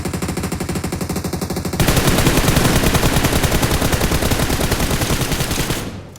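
Rapid automatic gunfire in a battle royale video game, dense bursts that grow louder and more continuous partway through, then cut off abruptly near the end.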